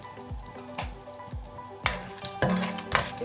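Cashew nuts and peanuts frying in a pan, with sharp clinks of a spoon against the pan repeating every half second or so, over a faint sizzle, busier and louder toward the end.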